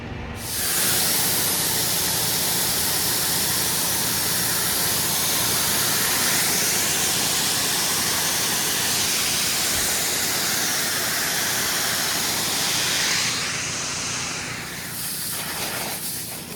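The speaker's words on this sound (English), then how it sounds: "Just loading up with wheat." A steady rushing hiss of wheat grain pouring continuously into a seed drill, loud and close, fading briefly near the end before resuming.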